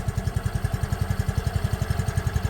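A quiet vehicle engine idles smoothly and steadily, its low, even chug repeating in a regular rhythm close by with no talk over it.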